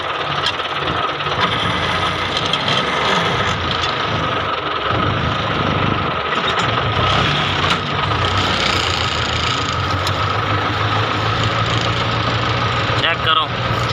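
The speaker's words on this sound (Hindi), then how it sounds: "चेक करो चढ़ाई कल्ला ट्रैक्टर चढ़ रहा है माशाल्लाह।" A Millat 240 tractor engine labours up a steep slope, a steady mid-pitched drone that runs loud and unbroken throughout, with voices talking over it.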